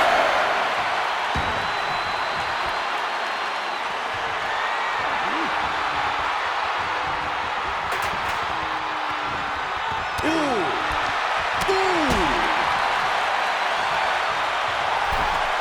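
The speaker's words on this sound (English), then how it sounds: "The crowd is fired up." A wrestling arena crowd at a no-holds-barred match at Bash in Berlin roars as a steady, loud wash of cheering and noise, with commentators talking over it and sharp whistles and yells rising toward the end.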